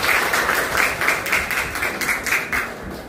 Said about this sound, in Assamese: তেওঁলোকৰ বাবে এটা হাত চাপৰি সকলোৰে পৰা বিচাৰিছোঁ